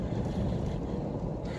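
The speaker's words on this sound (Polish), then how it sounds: "ale za to mocno, mocno wieje." Strong wind gusting across a lake at a carp-fishing spot, producing a steady, loud low rumble and buffeting with no breaks and no voices.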